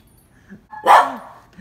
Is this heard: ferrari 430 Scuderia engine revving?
no